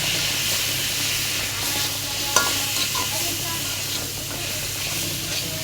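Spices frying in a small amount of oil, a continuous close sizzle with the scrape and shuffle of stirring throughout and one brief sharp tap partway through.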